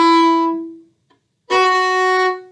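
Two accented down-bow strokes on an orchestral string instrument, each a strong, bright sustained tone with rich harmonics, the first fading out before a short pause and the second attacked hard and held, played alone without talk.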